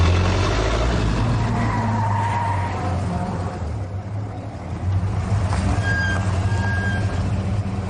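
A car being driven, with a loud continuous engine and road rumble, a brief dip in the middle, then a rising roar and high tire squeals toward the end.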